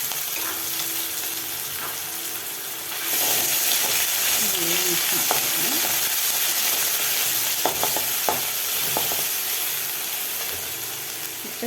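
Ginger garlic paste fries in hot oil for chicken curry, a continuous close sizzle that swells louder partway through, with scattered spatula scrapes and taps against the pan.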